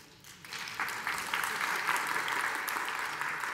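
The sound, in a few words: audience clapping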